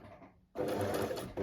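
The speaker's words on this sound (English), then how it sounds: "we're going to sew the straps, and once you just sew it as close to the edge as possible whilst capturing" A sewing machine stitching dress straps starts abruptly after a quiet moment, then runs with a fast steady whirring hum at close range for the rest of the moment.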